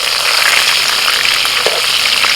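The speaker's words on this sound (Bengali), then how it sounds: "কড়াইতে একটু তেল বেশি দিয়ে পটলগুলোকে ভালো করে ভেজে নিতে হবে" Pointed gourd frying in plenty of mustard oil in a wok, a loud continuous close sizzle with faint stirring scrapes, no talking.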